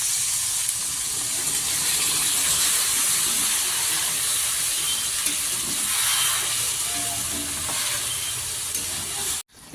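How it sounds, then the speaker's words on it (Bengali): Water poured into a hot pan of kaikka fish curry produces a loud, steady hiss and sizzle that carries on evenly for several seconds, close up and without talk, before cutting off abruptly at the end. "এখন আমি এর মধ্যে জল দিয়ে দিই।"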